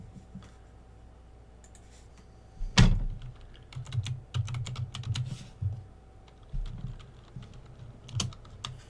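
Typing on a computer keyboard, close and alone, with a sharp opening clack followed by bursts of quick key clicks and short pauses between them.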